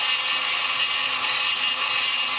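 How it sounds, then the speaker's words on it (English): A rotary tool fitted with a coarse bit grinds fire agate stone, giving a steady, loud, high-pitched whine that holds unbroken throughout. "I switched out the diamond cutting wheel for this Varenkor coarse bit."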